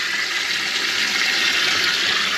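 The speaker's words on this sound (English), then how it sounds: "Hose is in. I'm probably going to fill it up to like here." A garden hose pours water into a chest freezer being converted into an ice bath. The water makes a loud, steady rushing splash that continues throughout, with no pauses and no voices.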